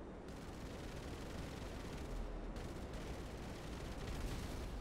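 Cannon fire in a GTA V match rolls out as a dense, continuous roar of booming blasts that sounds like a sustained barrage rather than separate shots.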